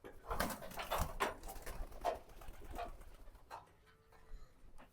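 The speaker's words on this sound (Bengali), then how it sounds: "দেখেন কবুতরগুলো বাইরে এসেছে" Pigeons from a farm coop coo close by in soft, throaty bursts that are louder at first and then thin out to quieter murmurs with a few rustling sounds.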